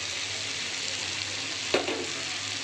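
Ginger paste and mustard-poppy paste sizzling with vegetables in a pan for shukto, a steady close hiss of frying with one short stir or spatter midway, no talking.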